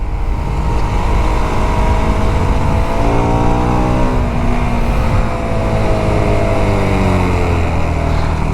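The engine of a Liebherr 918 excavator on a construction site revs loud and close, its drone rising and falling in pitch with a steady roar throughout and no talking.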